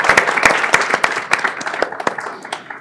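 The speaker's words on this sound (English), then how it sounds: "Please give a round of applause for Dr. Doug Usher." Audience applause greets a panel moderator at a political analytics conference, a room full of scattered sharp claps that builds briefly and then thins out.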